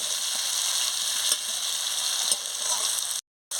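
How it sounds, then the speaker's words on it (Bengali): Carrots sizzle in oil in a pan for a Bengali fish curry while being stirred, with a constant close frying hiss, a couple of light utensil knocks and a brief dropout near the end. "এবারে ভালো করে নাড়িয়ে নিচ্ছি, ভালো করে একটু নাড়িয়ে নিই"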